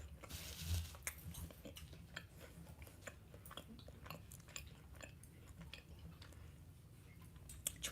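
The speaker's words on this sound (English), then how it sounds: "You don't realize how much you chew until you record yourself eating." Someone chews Chick-fil-A food close to the microphone, with soft, irregular squishy bites and small crunches repeating through a quiet room. The sound stays faint but steady.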